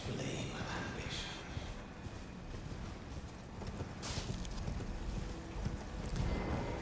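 Horse hooves clip-clopping in the video game Elden Ring, a quiet steady gallop rhythm with faint mechanical clatter, a few louder hits near the end.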